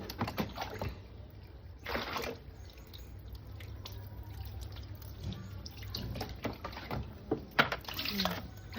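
Water poured and splashing while a cat is bathed, heard as faint intermittent splashes and drips with a few louder pours, recorded close up in a quiet indoor space.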